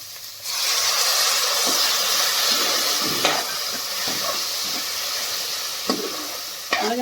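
Water poured onto spices frying in a pan for Punjabi-style gobi matar bhurji, giving a loud, steady steamy sizzle and hiss throughout, with a few light stirring knocks and no speech.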